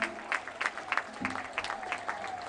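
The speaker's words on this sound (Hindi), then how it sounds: "जोरदार तालियों से उनका अभिनंदन" Scattered clapping from a gathering welcoming a guest swami at a spiritual programme in Prayagraj. The claps come in uneven bursts, faint and somewhat distant.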